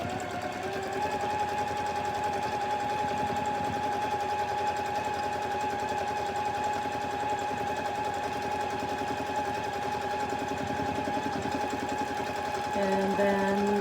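A sewing machine runs steadily for free motion quilting, its fast, even stitching hum continuing unbroken at close range with a brief change in pitch near the end.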